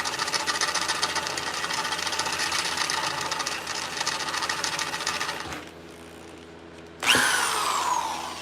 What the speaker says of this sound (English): Need to drill it bigger.